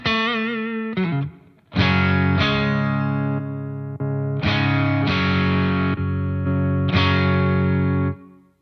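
Electric guitar through a Quad Cortex capture of a Revival Drive overdrive pedal: distorted chords ring out loud and sustained, struck again every second or two with a thick overdriven tone and no voices.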